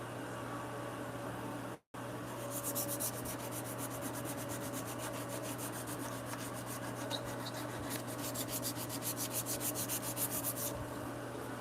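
Hand sanding on the wood of a bunk bed in a home workshop, a steady rubbing scrape that turns into quick rhythmic back-and-forth strokes, faint and close over a constant background hum.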